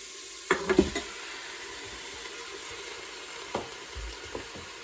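Tomatoes and other ingredients for a cream of tomato soup sizzle quietly in a pan, opened by a few clattering knocks as they drop in, then a steady low fry with occasional utensil taps.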